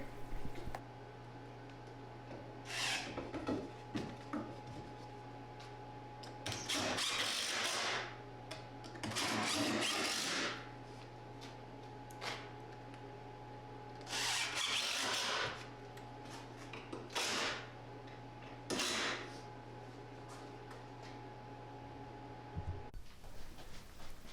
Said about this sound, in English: just screwing in a couple boards to the corner of my workbench